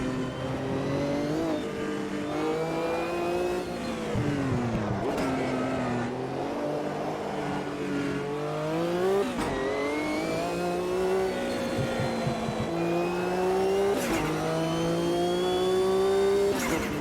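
Race car engine in the Automobilista 2 sim racing game during a World Sportscar Championship race, revving up and down through gear changes with a steady, loud drone and brief shifts throughout.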